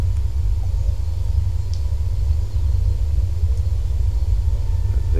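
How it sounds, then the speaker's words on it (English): A heavy Airbus A380 airliner taxis slowly in a flight simulator game, giving a constant deep, loud engine rumble with little change throughout. "You can really feel the weight with this plane when taxiing"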